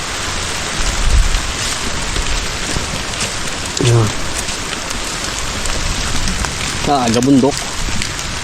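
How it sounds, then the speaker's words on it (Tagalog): Steady rain hisses down on a surface throughout, with a person speaking briefly over it. "larga na naman ang ulan"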